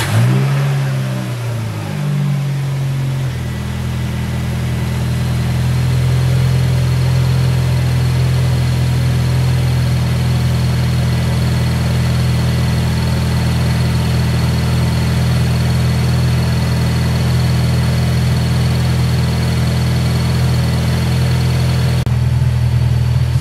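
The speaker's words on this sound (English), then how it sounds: "car's turning on nice and smooth" A car engine idles steadily after its MAF sensor was moved, starting with a brief uneven rev before settling into a smooth, constant low hum that carries on alone for over twenty seconds.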